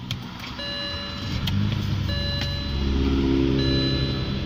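A BMW 320i E90 sedan with the 2.0-litre N46 four-cylinder engine idles steadily at close range, a continuous low engine hum with faint high-pitched tones and a slight rise in level partway through.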